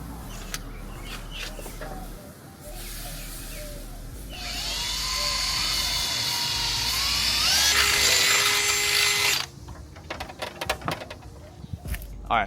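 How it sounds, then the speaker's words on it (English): A power drill whines up in pitch and drills a hole in a motorcycle fuel system part for several seconds, loud and close, then stops, followed by scattered clicks and handling noise. "I'm gonna drill 1 hole here"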